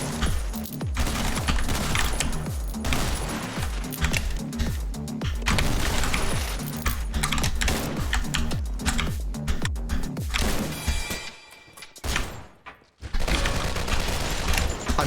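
Rapid gunfire from enemies in the top-down shooter OTXO, a dense, loud fusillade of overlapping shots and bursts that keeps up steadily, cuts off briefly near the end, then bursts back in.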